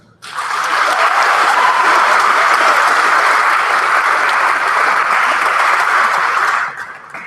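A school assembly audience applauds to welcome a guest speaker, loud steady clapping from many hands that starts abruptly, holds for about six seconds, then fades out.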